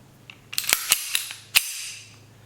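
Taurus PT 92 9mm pistol being cleared: a quick series of sharp metallic clicks and clacks from the slide and action, with one loud snap near the end, close and without talk.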